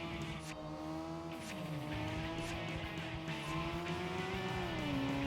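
A tuned sports car in Tokyo Xtreme Racer 3, a PS2 street-racing game, revs steadily with rising and falling engine pitch and some tire noise, loud and continuous throughout.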